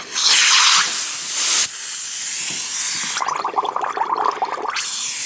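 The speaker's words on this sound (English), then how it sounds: "Well, now it's flowing. Oh, gee, it's leaking out everywhere." Compressed air leaks from a 5-in-one air coupler in a loud, steady hiss that swells and eases, turning into a rough, sputtering spray near the end.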